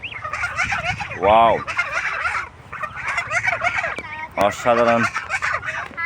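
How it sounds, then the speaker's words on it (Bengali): Geese honk and call loudly and repeatedly at close range, the harsh cries overlapping in a busy flock chorus, with a brief exclaiming voice. "রাজহাঁস"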